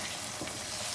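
Dried fenugreek leaves fry with chicken in a pot, giving a steady close sizzle with a soft stirring scrape.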